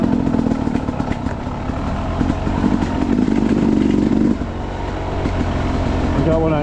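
A dirt bike engine runs loud and close on a trail, with a throaty rumble that swells briefly before settling back to a steady idle.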